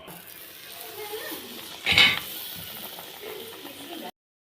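Betel leaf bajji in hot oil gives a steady soft sizzle of frying batter, with a brief louder spit and clatter near the middle as a piece is turned over; no one speaks.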